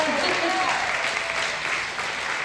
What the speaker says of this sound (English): Y'all give them one more round of applause, please.